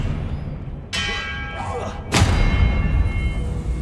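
Two spell casts in Hogwarts Legacy, the Expelliarmus disarming charm, each a bright ringing burst with a bell-like shimmer; the second strikes harder with a thudding impact and lingering tail, amid game ambience.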